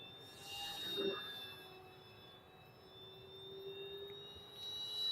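FMS CJ6 model airplane passing overhead in misty, windless weather, a thin whining motor tone that swells and fades as it moves around, fairly distant and faint.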